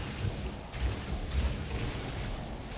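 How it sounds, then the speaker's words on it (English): Steady stormy weather rumbles in a video game, with continuous rain-like hiss and low wind roar and faint thunder swells, unbroken and moderately loud. "it does get stormy here apparently"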